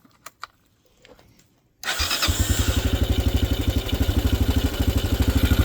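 An engine cranks and then starts on a restored sealed lead acid battery, with a few quiet clicks before it catches and settles into a loud, close, steady rhythmic idle.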